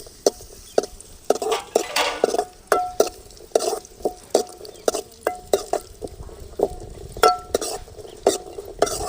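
Cashew nuts frying in ghee in a pan while a spoon stirs them, with sharp repeated scrapes and clinks against the metal at an uneven rhythm over a low sizzle, close up and without talk.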